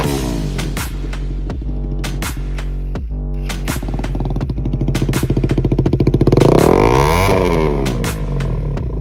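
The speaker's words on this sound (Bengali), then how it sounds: "স্টক সাইলেন্সার খোলার পরে আমাদের বাইকের কীরকম লাউড একটা সাউন্ড সেটাকে শুনে নেব।" A KTM Duke 200 BS6 motorcycle with its stock silencer removed idles with a loud, throbbing open-exhaust beat, then revs up to a rising roar around the middle before dropping back, very close.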